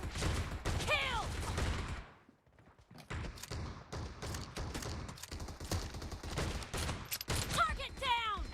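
Shotgun fire in the mobile game PUBG Mobile comes as a run of sharp, loud blasts in quick succession, pausing briefly before more shots, with game voice callouts over the top.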